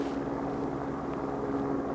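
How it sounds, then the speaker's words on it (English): A helicopter flies over high mountain peaks above the Palisade Glaciers, its rotor and engine giving a steady, distant drone throughout with no voices. "So this helicopter's flown around the top of the 14ers up there above the Palisade Glaciers"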